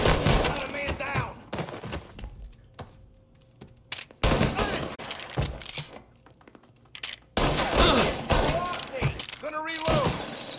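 Bursts of automatic gunfire and single shots in a Mafia Definitive Edition shootout, loud and close, arriving in three clustered volleys separated by quieter gaps, with shouted voices mixed in.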